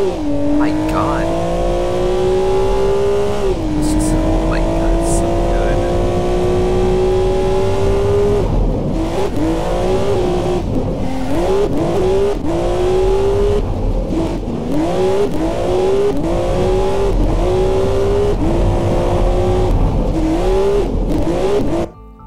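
A 302-horsepower car in the BeamNG driving game laps the Top Gear test track, its engine revving high and repeatedly rising through gears, with loud, rhythmic shifts and engine surges throughout.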